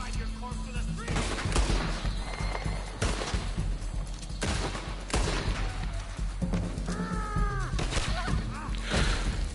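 Outlaws' gunfire in Red Dead Redemption 2 Online: repeated loud shot bursts and rapid volleys spread across the scene, with a short whistling tone partway through.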